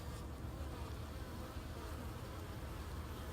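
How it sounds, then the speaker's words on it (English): Honey bees buzz steadily on a hive frame held close, a dense continuous drone at low volume with no talk. "And there are bees working this frame."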